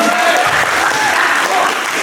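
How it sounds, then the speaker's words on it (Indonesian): Dense applause from a school audience at a student council candidate debate, steady and loud throughout with a few voices mixed in. "Boleh tepuk tangan semuanya"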